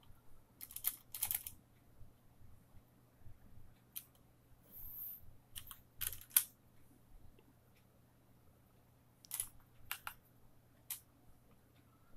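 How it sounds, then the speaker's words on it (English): Short runs of keystrokes on a computer keyboard as a profile name is typed into a PC BIOS fan-settings screen, quick clustered clicks with pauses between, close and quiet, no voices. "if I type in the name of it that I want"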